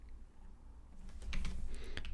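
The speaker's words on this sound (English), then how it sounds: "Let me type in the year." A short burst of keystrokes on a computer keyboard, quiet close clicks and taps clustered in the second half after a brief near-silent pause, with no talk.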